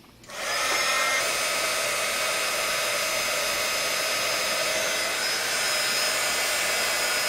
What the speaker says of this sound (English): And then we'll heat emboss it.